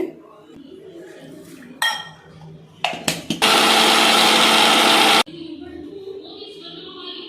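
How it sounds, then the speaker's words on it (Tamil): Mixer grinder grinding ginger and garlic into a paste: first a few clinks of the jar and lid, then a loud roaring burst of grinding that runs about two seconds and stops sharply, leaving a quieter kitchen hum. "இஞ்சி பூண்டு இந்த மாதிரி அரைச்சி வச்சுக்குவோம் நல்ல மையாக அரைச்சி வச்சுக்குவோம்"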